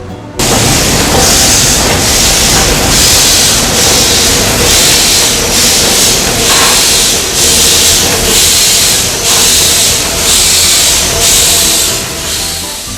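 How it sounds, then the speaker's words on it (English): Steam train pop-off valve on a Walt Disney World locomotive letting go, a very loud, continuous roaring hiss of escaping steam that starts abruptly and pulses slightly as it holds. "when they relieve the pressure, it is so incredibly loud"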